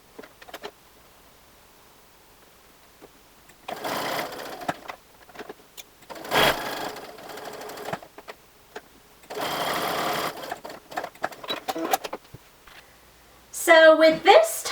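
A home sewing machine stitching square fabric pieces for a natural air freshener sachet, several short bursts of whirring stitching separated by pauses and handling noises, close up, ending with a louder mechanical rattle.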